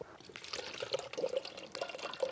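Distilled water pours into the cooling system of a Mitsubishi Lancer CE during a coolant flush, a close, soft trickling and splashing with small drips, with no talking.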